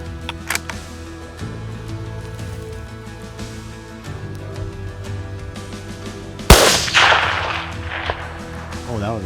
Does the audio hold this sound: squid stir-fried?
no